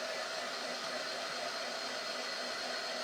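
A hair dryer blows on a painted wooden craft frame, making a constant, even whoosh with a steady airy whine that holds unchanged from start to finish.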